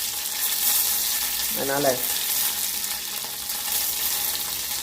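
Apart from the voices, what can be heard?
yellow mustard seeds frying in a pan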